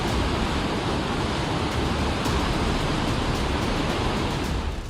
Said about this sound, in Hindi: पानी का ये वेग, टूटते पहाड़ों का ये शोर, ये बताने के लिए काफी है कुदरत कितनी क्रोधित है।